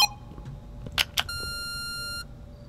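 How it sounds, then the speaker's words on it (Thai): A telephone rings indoors in a Thai sitcom house: two sharp bright electronic bursts, then a steady high ringing tone holding for about a second before stopping, faint and close with no voices. "โทรศัพท์ดัง"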